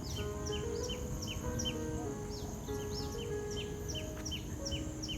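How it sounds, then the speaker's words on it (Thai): Small birds call over and over from hidden spots in a nature park beside a lotus pond, with quick repeated chirps, moderately close, above a steady low outdoor hum and no voices. "มาถึงตรงนี้มีเสียงนกนะคะ แต่ไม่เห็นตัวนก"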